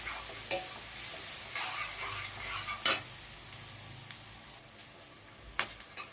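Green chillies frying in hot oil in a pan for chicken curry, a steady sizzle with scraping stirs and a few sharp utensil knocks against the pan, close and fairly quiet, no talking.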